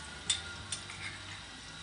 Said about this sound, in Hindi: और इसको हम रफली 1 मिनट के लिए सौते करेंगे।